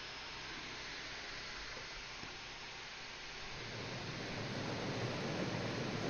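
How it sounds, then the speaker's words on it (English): Steady rainfall in The Mortuary Assistant horror video game, a dense continuous hiss that swells slightly louder toward the end, with no voices. "And it's raining."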